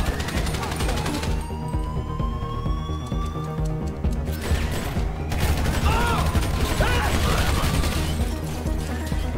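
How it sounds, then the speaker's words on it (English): Rapid bursts of gunfire and crashing action in GTA V during a casino heist, dense and loud throughout, with game sounds layered underneath and voices talking over the shooting. "Shots."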